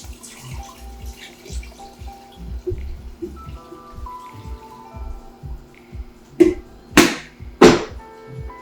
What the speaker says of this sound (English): All right, 2 more liters of water go in.